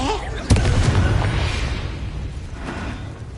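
A spell blast in Hogwarts Legacy on PS5, Expelliarmus cast as a sudden loud burst followed by a rumbling, crackling wash that fades slowly, with a voice calling out the spell just before.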